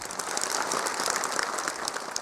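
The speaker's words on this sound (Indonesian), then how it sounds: "tepuk tangan dong buat mantan-mantan" Audience applause at a live Jakarta stage event, a steady dense wash of many hands clapping at moderate level throughout, with no voices over it.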